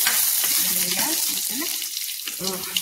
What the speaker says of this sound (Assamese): পাঁচফোৰণ আৰু নৰসিংহৰ পাতটো তেল মাৰিবলৈ কাৰণে তেল অকণ দিছোঁ